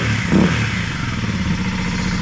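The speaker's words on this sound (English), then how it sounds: "Started it without the airbox lid on it, and that sounds so much different right away without that huge restriction." A Kawasaki KLX 300 motorcycle engine runs with its airbox lid removed, giving a steady, loud, close rumble with a brief throttle blip near the start and no talking.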